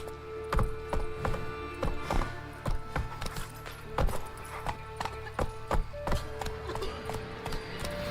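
Hoofbeats of the horse galloping in Witcher 3 make a rhythmic, uneven clip-clop of hard thuds with faint tack rattles, fairly quiet and continuous throughout.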